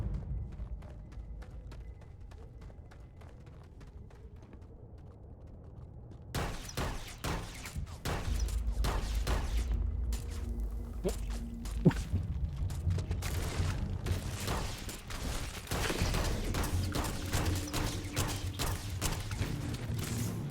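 Gunfire in the video game Starfield inside a cave, a rapid run of sharp shots starting partway through and continuing loud and dense, with quieter ambience before it.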